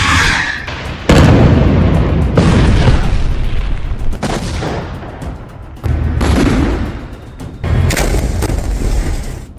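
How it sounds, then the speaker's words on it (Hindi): Loud, heavy booming blasts from bombing in southern Lebanon, several in succession with rumbling tails and short pauses between, close and dominant with no voices. "दक्षिणी लेबनान में भी कारपेट बॉम्बिंग शुरू हो चुकी है"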